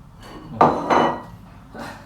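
Dishes being washed at a kitchen sink, three or four loud, close clatters of plates and cutlery knocking together with short pauses between them.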